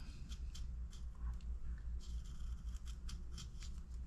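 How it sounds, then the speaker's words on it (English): A carving knife makes a small test cut in wood, producing soft repeated scraping and slicing strokes close by, quiet and steady over a low background hum. "Little test cut."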